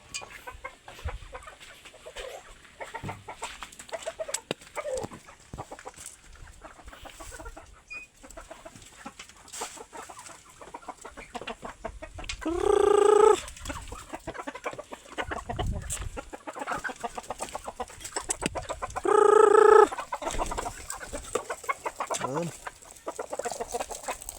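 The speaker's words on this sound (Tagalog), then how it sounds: "Marami ng ating mga alagang native chicken." Native chickens, including shamo gamefowl, clucking steadily around a Philippine rice-fed backyard farm, with two louder, sharper bursts of squawking standing out near the middle and toward the end.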